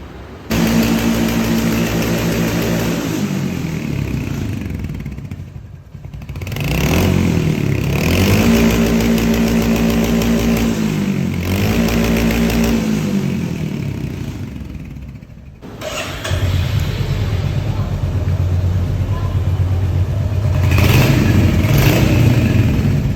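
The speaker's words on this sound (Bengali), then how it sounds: "এখানে এই ফার্স্ট টাইম একটা 350 বাইক আসছে, তো যেটার কাজ করতেছে হাসান।" A 350cc motorcycle engine runs loudly at a service station, holding a steady rumble with repeated revs that rise and fall, with one brief dip in the middle, close by with no talking.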